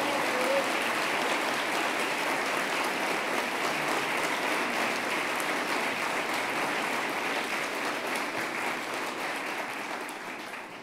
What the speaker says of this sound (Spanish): quiero pedir un aplauso especial